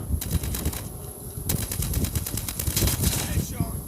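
Rapid bursts of automatic gunfire from a Call of Duty match rattle in quick strings, mid-loud, with players' voices talking over them.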